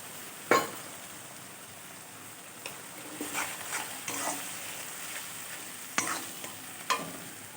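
Spice paste with mustard frying gently in a pan, a soft continuous sizzle broken by a few sharp stirring scrapes and clinks, close and fairly quiet with no talking.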